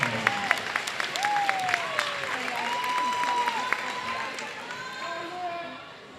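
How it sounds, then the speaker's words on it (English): Crowd applause and cheering at a college basketball homecoming event fill the clip, steady and fairly loud, with scattered whistles and voices rising over the clapping. "One more round of applause"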